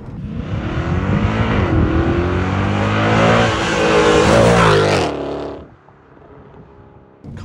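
A 2007 Mercedes E63 AMG with Stage 2 long-tube headers, an ECU tune and lowered suspension revs loud and sustained for about five seconds, its exhaust roaring close by, then cuts off abruptly and leaves a quieter idle.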